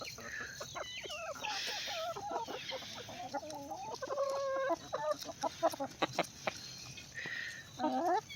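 Farm chickens and roosters cluck and squawk in a busy, uneven chorus, close but fairly soft, with sharp bursts of calls toward the end.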